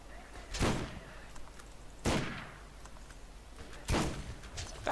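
Three heavy, widely spaced gunshots from Borderlands, each a sharp loud crack that rings out briefly, fired at a steady interval of about one and a half seconds.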